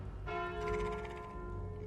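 A single deep bell tolls in the video game Slay the Spire, struck once with a bright metallic onset and a long ringing decay over a low rumbling background.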